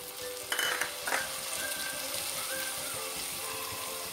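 Tomato sautéing in a pan for an aloe vera curry, a soft continuous sizzle with a couple of sharp stirring scrapes near the start, quiet and close, no talking.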